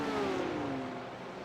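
A GT3 race car engine at Watkins Glen in a racing game gives a faint, steady tonal drone whose pitch slides gently downward, heard alone and fairly distant.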